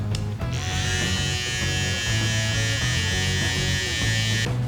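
An electric hair trimmer buzzes steadily and close while cutting away hair weight during a skin fade with a side part, one continuous drone that holds for several seconds.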